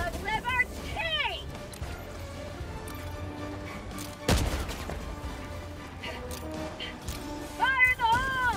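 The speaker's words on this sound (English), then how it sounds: "I have an EMS mortar sentry active." An EMS mortar sentry firing in Helldivers, one heavy thumping launch midway amid chirping alien noises and a low steady battlefield din, fairly faint in the mix.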